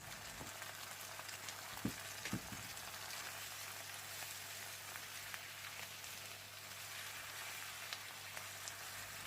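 Broom flowers and liver stir-frying in a pan, a soft continuous crackling sizzle with a couple of dull knocks early on, fairly quiet and steady throughout.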